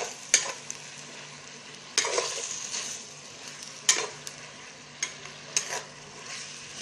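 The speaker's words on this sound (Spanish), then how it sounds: "aquí se sigue dorando en la lumbre para que agarre un sabor más rico. La seguimos moviendo para que no se pegue y no se queme." Beef steaks frying and being stirred in a clay pot over a wood fire, a steady close sizzle broken by several sharp scraping stirs at irregular intervals, with no talking.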